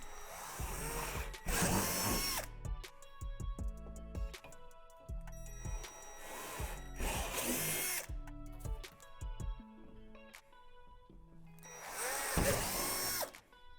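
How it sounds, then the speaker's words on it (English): A power drill with a 3/8 bit bores out labeled divots in a plastic Lifetime swing set panel, three loud whining bursts of drilling separated by quieter clicks and handling noise. "there are divots underneath that need to be drilled out with a 3/8 drill bit"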